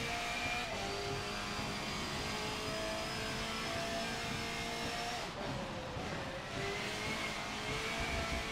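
A turbocharged car engine in the racing game Forza Motorsport 7 drones steadily under load, its pitch climbing through the gears with a brief dip mid-run, loud and continuous with no talking.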